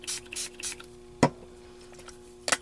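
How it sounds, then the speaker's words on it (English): Metallic bronze or gold spray paint is sprayed onto a handmade Christmas card in three short, close hissing bursts, followed by a few soft knocks and rubs. "I'm going to just spray this guy down just a little bit,"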